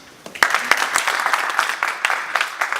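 Audience at a district society zonal conference clapping for the district chair, a dense spread of many hands with sharp individual claps standing out, fairly close and loud, continuing throughout.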